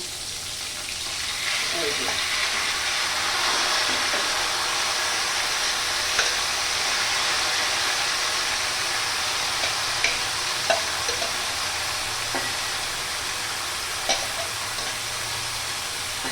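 Chopped bottle gourd sizzles steadily in hot oil in a pan on a gas stove turned low, a continuous frying hiss with occasional light clicks of stirring, while someone speaks at times over it.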